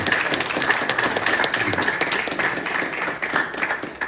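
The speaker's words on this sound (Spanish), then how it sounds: "si le va a aplaudir al Señor" A church audience claps steadily for the Lord at a gathering with a pastor from Quito, Ecuador, producing dense, continuous applause at close range throughout, with no talk over it.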